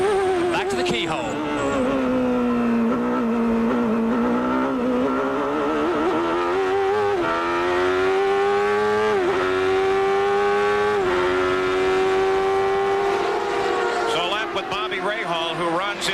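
An IndyCar engine at the 1993 Pioneer Electronics 200 screams at high revs, with its pitch dropping and climbing through repeated gear shifts and throttle changes, heard up close under continuous commentary.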